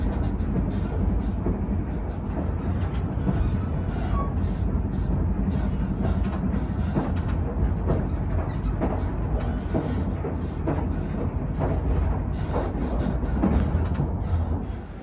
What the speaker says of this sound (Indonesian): Kereta api tambahan yang saya naiki telah tiba di stasiun Haurgelis, Kabupaten Indramayu